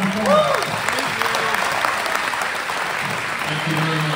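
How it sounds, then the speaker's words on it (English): Guests at a Franklin County GOP wine social give a round of applause, a steady crackle of many clapping hands with speech rising over it. "a big round of applause"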